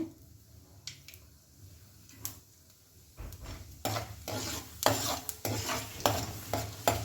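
Chana dal tipped into a pan and stirred, a spoon scraping and clinking against the metal in several distinct strokes over a soft, steady sizzle of hot oil. Close and fairly quiet, with no talk.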